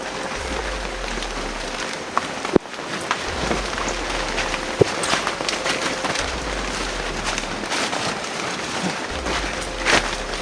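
Heavy rain in a video game pours steadily in a dense, constant hiss, with a few sharp knocks and a low rumble underneath.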